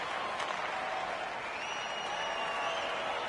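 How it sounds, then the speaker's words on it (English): Crowd at a junior hockey game between the Chicoutimi Saguenéens and the Cataractes in an arena, a steady, loud wash of cheering and applause filling the space with no break. "You can feel the energy in this crowd."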